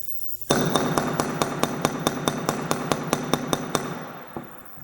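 A hammer strikes a socket to tap a bearing into place on a Suzuki LT80 ATV build. About fourteen evenly spaced, ringing metallic taps sound close and loud after a brief quiet start.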